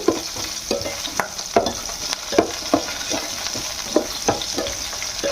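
Green chillies frying in hot oil for tomato chutney, a constant crackling sizzle with rhythmic spoon scrapes and taps against the pan roughly twice a second, close up and without talk.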